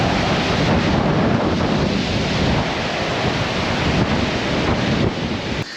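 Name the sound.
strong wind at a seaside viewpoint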